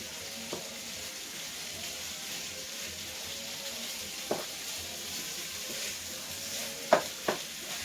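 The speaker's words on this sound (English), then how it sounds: "I'm going to drop in my ground beef. Work on breaking it up." Ground beef sizzles in a pan with a steady hiss while a utensil breaks it up, adding a few sharp scrapes and taps against the pan.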